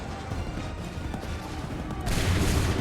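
Musket volley fired by soldiers in Assassin's Creed III, a low rumbling spread of gunfire that suddenly swells into a loud, dense crack and boom near the end, heard without voices over it.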